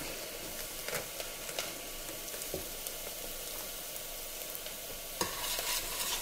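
Onions sauté in a pan for a pea cappuccino, giving a quiet, steady sizzle broken by occasional sharp scrapes and clicks of stirring. No voices are heard.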